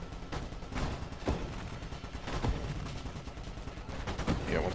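Ship weapons in the space shooter Nova Drift fire a dense, rapid barrage of blasts, with sharper shots punching through every second or so over a steady roar of continuous fire.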